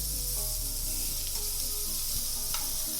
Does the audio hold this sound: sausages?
yes